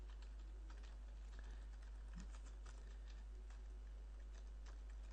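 Fast typing on a computer keyboard while writing PHP code, a steady patter of light key clicks at moderate distance over a constant low electrical hum, with no talking.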